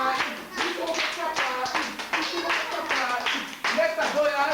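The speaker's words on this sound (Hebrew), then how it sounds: "מישהו מוחא כפיים" Hand clapping at a children's birthday party comes as a series of quick taps, running alongside continuous talking voices throughout.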